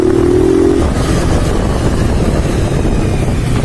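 Modified 180 motorcycle riding at steady speed, a loud continuous engine drone with heavy wind rush and a brief whine at the start.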